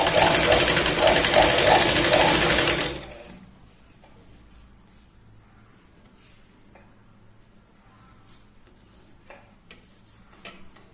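A sewing machine stitches a folded fabric strip for a Punjabi top, loud and close with a fast mechanical rhythm for under three seconds, then stops, leaving faint handling noises.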